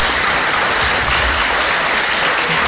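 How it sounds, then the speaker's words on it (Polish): Applause from the audience at a 2022 Polish election debate, loud and continuous dense clapping with no voices over it. "Bardzo to miłe oklaski."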